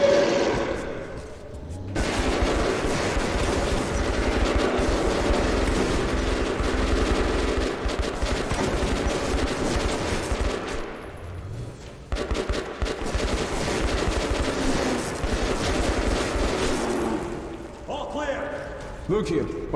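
Gunfire from a shotgun and other weapons in the Metro Redux video game, sustained loud bursts of shooting over a dense game soundtrack, with a brief lull near the middle and end, while voices talk over it.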